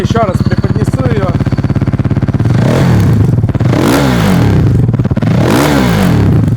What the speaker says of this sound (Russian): Вот такой вот звук у полной трассы Акропович.